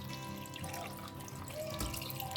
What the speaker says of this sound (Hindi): तो अब इसमें डालते हैं थोड़ा सा पानी, ज़्यादा ना डालें, बस थोड़ा ही डालना है